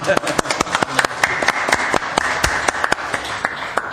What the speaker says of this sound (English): Can we applaud him? You can do that. Let's applaud him.